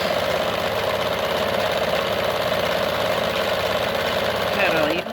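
Kenmore 92 sewing machine running slowly, giving a steady, even mechanical hum and rapid rhythmic clatter up close, with a voice speaking over it.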